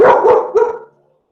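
A dog gives two or three quick, loud barks up close, then goes quiet.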